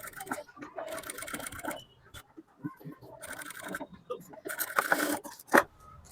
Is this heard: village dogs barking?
no